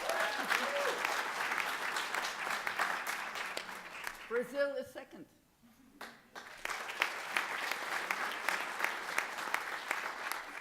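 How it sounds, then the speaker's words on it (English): An audience at a naturalization ceremony at Harvard Kennedy School claps steadily and loudly. The applause thins briefly in the middle, then resumes, and an announcer speaks over it. "please cheer on your friends and relatives who are about to take the oath"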